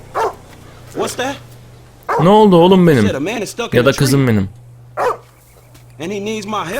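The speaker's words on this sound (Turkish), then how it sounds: "Burada bir köpek var ya." A dog in the video game GTA 5 barks and whimpers repeatedly at close range, in bursts between stretches of quiet, while someone talks affectionately over it and a low hum runs underneath.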